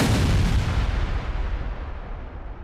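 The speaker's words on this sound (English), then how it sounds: "Artillery came next." Heavy artillery fire in a Vietnam War battle: a loud, deep blast that rolls out into a long, fading rumble.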